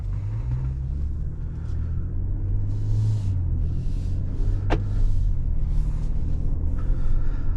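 A 2023 Grand Wagoneer Series III with the 3.0L Hurricane engine drives along, its steady low rumble of engine and road noise continuous and close from inside the cabin, with one brief sharp click partway through.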